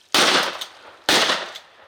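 Two loud shotgun blasts about a second apart during a duck hunt in Kansas, each a sharp crack followed by a short decaying echo over open ground.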